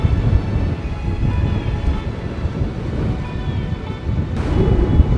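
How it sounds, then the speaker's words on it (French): Powerful wind buffets the microphone while large Pacific Ocean waves crash and roar nearby at Kamakura, Japan, with a heavy surge building toward the end. "Il y a beaucoup de vent et les vagues sont gigantesques"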